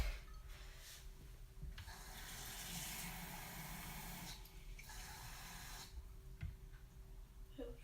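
Tap water runs into a measuring cup for three-quarters of a cup in a kitchen, a soft steady hiss with brief pauses as the flow starts and stops.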